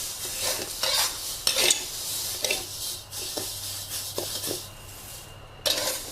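Uncooked rice is dry-roasted in a pan and stirred at home, giving repeated scraping and rustling strokes of grains against metal, each stroke a short gritty burst with a faint hiss between, close and fairly quiet.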